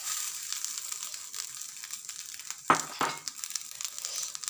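Grated coconut frying in a pan for coconut rice, a soft continuous sizzle with a couple of sharp scraping stirs near the middle, fairly quiet and close.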